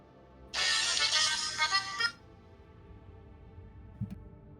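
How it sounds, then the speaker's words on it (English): Electronic phone ringtone chimes loudly for about a second and a half in a game setting, bright layered tones that then cut off, followed by a faint low blip. "Your phone is so intrusive."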